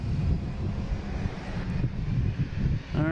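An airliner taxis and makes a quick turn onto a different taxiway around construction, a steady engine drone mixed with wind noise, fairly close and continuous.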